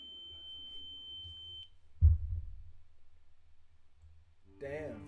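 A thin, steady high-pitched ringing tone meant to imitate tinnitus holds for over a second and a half, then stops; a dull thump follows, and a voice starts speaking at the end.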